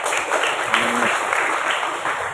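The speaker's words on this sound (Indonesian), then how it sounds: "Boleh tepuk tangan dulu untuk Indah." A crowd applauds steadily, a dense wash of clapping that holds throughout.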